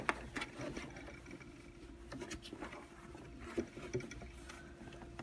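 A sewing machine stitches a nested leaf quilting pattern with a steady low mechanical hum and faint rhythmic patter, close and alone with no talk.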